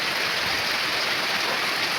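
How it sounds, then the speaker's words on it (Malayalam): Rain falls in a steady, dense hiss, loud and continuous with no distinct drops standing out and no voices. "മഴ? എങ്ങനെയുണ്ട്? കൊള്ളാമോ?"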